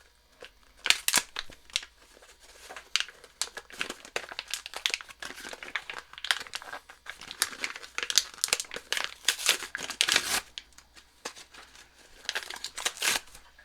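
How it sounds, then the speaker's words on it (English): Plastic packaging of new guitar strings crinkling and tearing as it is opened, in bursts of close rustles and crackles with short pauses, no talking. "let's take this out of the package."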